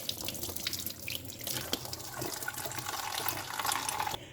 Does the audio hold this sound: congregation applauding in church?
no